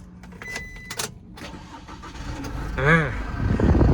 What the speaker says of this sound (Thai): เดี๋ยวลองสตาร์ทให้ดูนะครับ